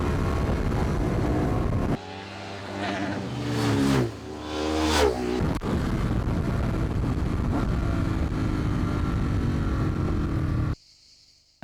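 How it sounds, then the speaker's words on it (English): Sport motorcycle engine revving hard under throttle on an open road, pitch sweeping up and down through repeated bursts of acceleration, loud and close, then cutting off abruptly near the end. "And just listen to the throttle control."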